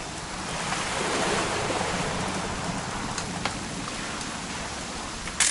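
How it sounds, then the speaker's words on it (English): Steady rain falling in the video game What Remains of Edith Finch, a soft continuous hiss with a faint patter and a brief knock near the end, no voices. "It's gonna rain the whole weekend, isn't it?"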